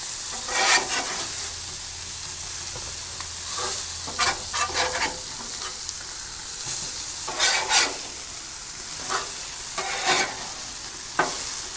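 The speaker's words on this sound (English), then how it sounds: "we're going to baste that right on top of those pork chops" Pork chops sizzle on a Blackstone flat-top griddle while being basted with butter and seasoning, a steady close hiss broken by louder crackling bursts and scraping as the meat is worked, with no voices.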